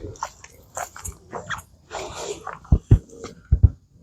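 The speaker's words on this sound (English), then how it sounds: "I know you can hear my dogs." A Boston Terrier and a large black dog chew and bite close to the mic with sharp crunching snaps, mostly toward the end, over quiet rustling and no clear barking.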